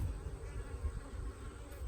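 A dense, steady hum of many honeybees buzzing close by at an open hive during a nuc installation, a low droning swarm sound that continues throughout without speech.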